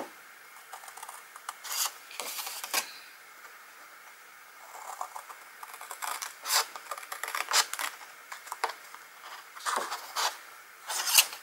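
Scissors snip through card stock in short, close crisp bursts separated by quiet pauses, the cuts coming in irregular clusters at a papercraft table.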